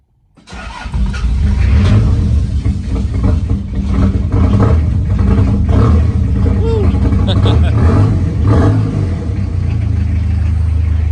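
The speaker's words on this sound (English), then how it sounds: "I'm gonna go ahead and try to start it" A car engine cold-starting in chilly weather after a blown charge pipe was fixed, cranking briefly then catching and settling into a loud, steady idle with some revving close to the microphone.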